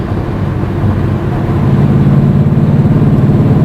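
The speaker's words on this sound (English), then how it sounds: "Steady state highway, pretty much just hear road noise and typical highway sounds." A 2011 Mustang 5.0 fitted with an MRT exhaust cruises at steady highway speed, giving a constant low engine hum mixed with road and tyre noise that holds level and swells slightly louder partway through, with no talking.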